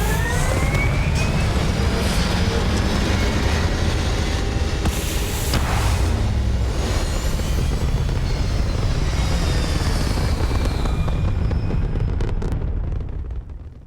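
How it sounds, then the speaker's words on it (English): A spaceship lifts off in the video game Starfield with a loud, sustained engine roar and rumble that stays dense for nearly the whole stretch before tapering near the end, with no talk. "Locked in and ready for liftoff"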